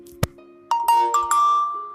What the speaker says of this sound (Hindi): जैसे ही मैंने इसे रिमूव किया चार्जर को तो टून बजी है।